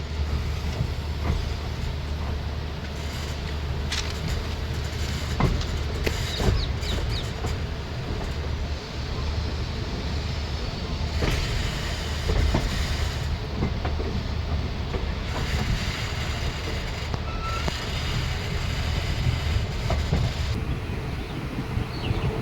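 Heard from on board, the 05460 Shahjahanpur–Sitapur passenger train pulls out of Shahjahanpur station with a continuous low rumble, rhythmic wheel clacks and occasional clanks, steady and fairly loud throughout.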